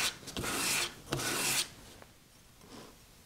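Two close, loud strokes of 800 grit sandpaper rubbing by hand, each a rasping swipe of about half a second, then a faint quieter stroke toward the end, with no voices.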